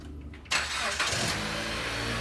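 A car engine starts after its alternator and ADP pulley have been replaced. It catches abruptly and settles into a loud, steady idle that carries close to the listener, with a slight rise in revs partway through.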